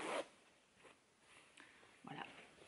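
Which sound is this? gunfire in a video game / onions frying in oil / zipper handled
zipper handled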